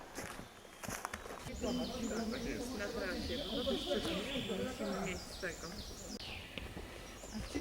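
Spring birdsong rings through a sunlit forest of beech, ash, larch and fir on a hill, with thin, quick chirps and trills sounding faintly beneath a voice talking and some rustling footsteps.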